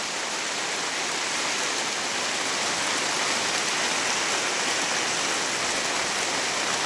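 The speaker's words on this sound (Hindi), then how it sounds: "देखु केते जोरे बर्षा काचला" Heavy rain pours down in a dense, steady hiss that stays constant and fairly close, with no voices.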